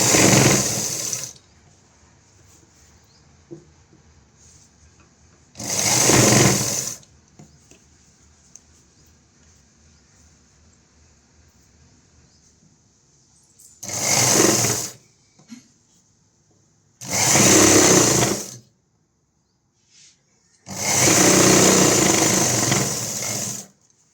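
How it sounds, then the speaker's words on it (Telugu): Sewing machine stitching a full umbrella long frock, running in four or five separate bursts of a few seconds each with quiet pauses between, close and fairly loud with no talk. "అడుగున క్లాత్ పడకుండా చూసుకుంటూ ఒక స్టిచ్చింగ్ వేయాలి."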